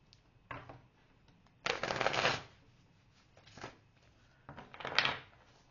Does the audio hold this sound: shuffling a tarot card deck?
yes